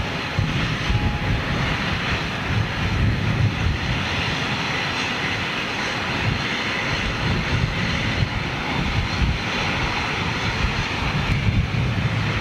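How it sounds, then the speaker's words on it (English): A jet airliner with CFM LEAP-1A engines gives off a loud, steady roar that stays close and continuous throughout, with no one talking. "Those LEAP 1A engines sounded like little Gen X Trent type."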